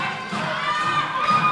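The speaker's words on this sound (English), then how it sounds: "Crowd getting behind Rocko." A wrestling crowd at an AZW event cheers and shouts steadily, a dense loud roar of many voices with scattered thuds.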